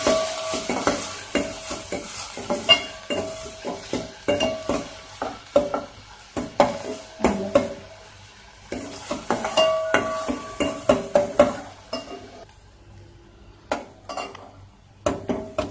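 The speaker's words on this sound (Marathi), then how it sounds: "तेल गरम झालं त्यात कांदा थोडासा परतून घ्यायचा।" Onion sautés in hot oil for Malvani prawn curry, a crackling sizzle under busy stirring and spatula scrapes against the pan, loud and close, the frying fading out near the end with a few final taps.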